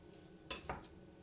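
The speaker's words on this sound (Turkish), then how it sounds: "Önce ciğeri doğruyoruz." A couple of sharp clinks of a kitchen knife against a board or dish while chopping raw chicken liver and heart, two quick faint knocks in an otherwise quiet kitchen.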